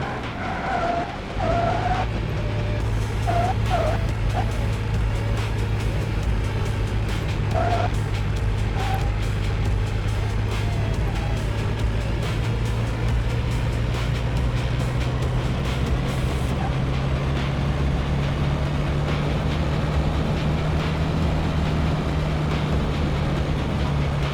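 Sustained tire squeal and skidding from cars in an indie driving video game, loud and continuous for the whole stretch, with a steady engine drone underneath and no talking.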